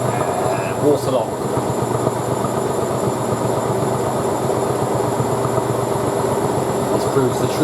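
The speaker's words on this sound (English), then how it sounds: "This proves the true power of a GC Hotpoint motor." A Hotpoint WM63 washing machine (Casatta by Hotpoint) with its motor in the final spin, a loud, steady, rumbling whir that holds unbroken close by for the whole stretch.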